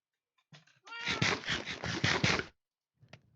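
A cat meows loudly and up close in a drawn-out, wavering call, followed by a short quieter mew after a brief pause.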